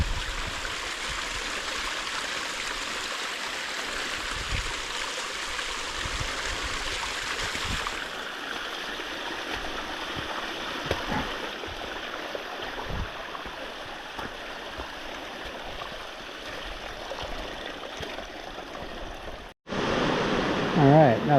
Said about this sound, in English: See waterfalls on the trail.